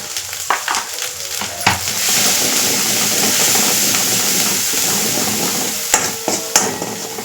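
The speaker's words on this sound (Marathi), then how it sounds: "कमी गॅसवर मस्त तेलमध्ये ना हे जे मसाले ना हे शिजू द्यायचे" Ground spice masala with red chilli powder, black masala, garam masala and turmeric sizzles steadily in oil over a low gas flame, with occasional stirring clinks of a spoon, loud and close without talk.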